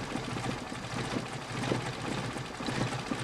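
A Mercedes 190SL engine fitted with Solex PHH44 carburetors idles at low RPM with a steady, even rumble, close and continuous.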